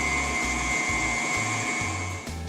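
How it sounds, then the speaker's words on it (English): A stand mixer kneads focaccia dough on medium speed. Its motor drones steadily and close up, and a low rhythmic thump repeats about every half second as the dough slaps around the bowl. No one speaks. "you see how this is a lot easier with a stand mixer"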